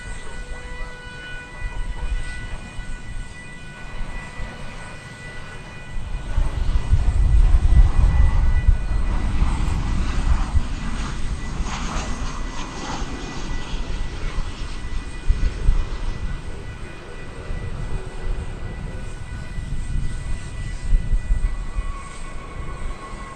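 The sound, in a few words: American Airlines Boeing 737-800 arriving at DFW airport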